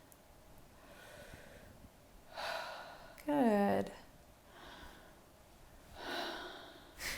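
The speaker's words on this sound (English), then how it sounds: "this type of technique, which is often referred to as conscious connected breath work" Conscious connected breathwork: heavy, audible breaths in and out come in a few spaced bursts, fairly faint, with one short spoken word between them.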